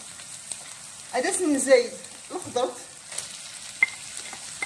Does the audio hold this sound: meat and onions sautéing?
yes